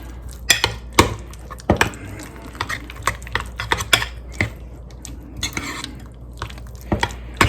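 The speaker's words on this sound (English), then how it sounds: "I'll mix in a little bit at a time." Grated cheese is mixed into a keto John Wayne casserole in a bowl, giving close, irregular clacks and scrapes of a utensil against the bowl, with quiet pauses between strokes.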